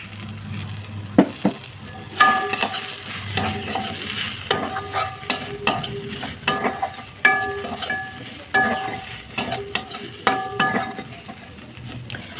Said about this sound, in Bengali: তো এদিকে নিম পাতা ভাজা করলাম